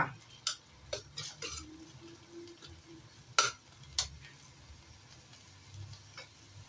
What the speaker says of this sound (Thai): ผัดเลยนะคะเราผัดเลยนะคะ ผัดให้หอมเลยจ้า